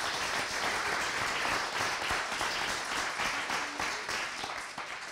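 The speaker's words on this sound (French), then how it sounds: "j'ai même envie qu'on les applaudisse, parce qu'ils donnent de leur temps gratuitement" A conference audience applauds volunteers with steady, dense clapping that fills the room for several seconds without pause and tapers slightly at the end.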